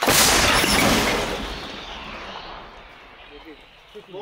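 A mortar battery fires a single round at a front-line position: a loud blast right at the start, then a long rumbling decay that fades over several seconds, with voices talking at the end.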